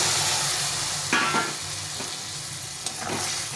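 Steady, loud sizzling of browned ingredients frying in a pan for shukto, with occasional scraping stirs and clinks over the constant hiss.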